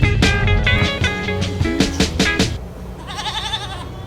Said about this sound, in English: Got to see the goats, the kids.